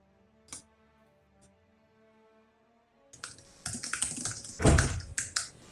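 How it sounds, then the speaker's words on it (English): Frantic computer keyboard typing during a tabletop role-playing session; after a few faint clicks, a dense burst of fast, loud key clatter fills the last few seconds, with no talk over it. "Frantic typing."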